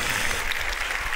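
A steady wash of clapping hands from a crowd, continuous and fairly even throughout, with no voices standing out.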